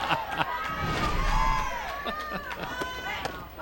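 Crowd noise at a 14U national championship softball game: a lively, cheering crowd murmur swells in the background while a commentator talks over it.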